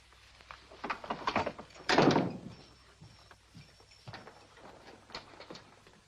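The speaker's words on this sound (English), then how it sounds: "Lock the door and don't let anybody else in." A door in a Western film shuts with a loud thunk, followed by rattling latch and lock clicks and faint shuffling, heard close with no speech.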